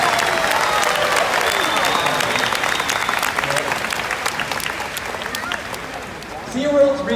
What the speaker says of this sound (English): how about we give our volunteers a huge round of applause for doing a great job today